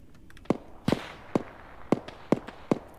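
Distant gunshots in the Arma 3 Ravage mod, six sharp cracks spaced irregularly across a few seconds, moderately faint with a quiet backdrop.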